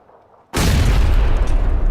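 A grenade explosion in the PUBG video game, a sudden loud boom after half a second of near silence, followed by a sustained heavy rumbling roar until the end, with no voices.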